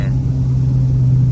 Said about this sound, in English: I need my car to be louder.